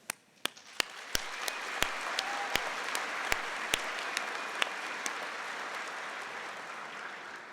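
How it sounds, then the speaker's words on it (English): A graduation convocation audience claps continuously, with sharp, distinct close claps standing out at irregular intervals over a broad, steady wash of applause from the crowd. "Let's keep the applause going as I announce today's platform party."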